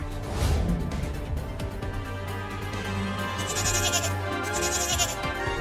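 A young goat kid in a Hindi cartoon bleats repeatedly over a busy music-and-effects backdrop, its cries fairly close and moderately loud amid other animated sounds.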